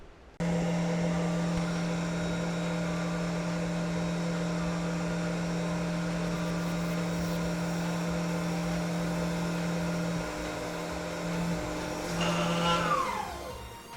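A CNC mill cuts Delrin with a long tool stick-out under flood coolant, giving a steady, close, slightly chattery machining hum that holds for most of the stretch before wavering and winding down near the end.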